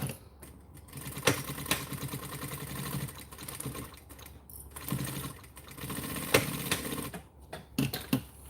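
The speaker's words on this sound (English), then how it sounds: "now what we get to do is stitch this down" A sewing machine stitches a quarter-inch seam, its needle running in a fast mechanical rattle that speeds and slows in several bursts with brief pauses, close and moderately loud.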